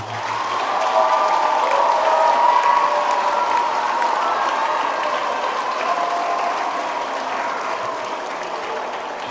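Sustained applause from a church congregation for the support staff at a celebration of the Solemnity of the Immaculate Conception, a full, dense wash of clapping that holds steady for about nine seconds and eases slightly at the end.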